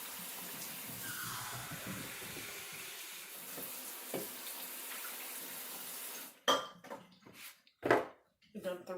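Water pouring steadily into an Instant Pot, a continuous splashing hiss for several seconds, then ending with a few clanks and knocks of kitchen handling.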